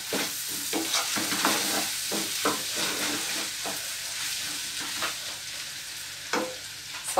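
Rice toasting in butter and oil in a pan, a steady close sizzle with repeated scraping clicks of stirring throughout, no talking.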